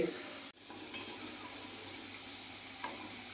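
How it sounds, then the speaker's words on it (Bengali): Potatoes frying in oil on a stove, a steady close sizzle with a couple of brief utensil clinks against the pan. "আলুগুলো আমি প্রথমে ভেজে নেব একটু ব্রাউন কালার হিস করে ভেজে নেব আলুগুলোকে"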